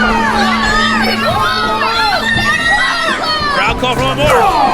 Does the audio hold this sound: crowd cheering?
yes